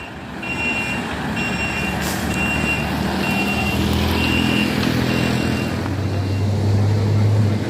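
A Hino truck reverses up a hill, its diesel engine straining loudly and continuously while a reversing alarm beeps in a steady repeating pattern, with some air-brake hiss and light road noise.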